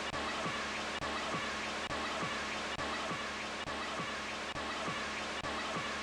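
Steady, dense hiss of radio static sampled from a Eurorack radio module into an MPC Live, with a faint rhythmic thump repeating about every second underneath, washed in a roomy reverb.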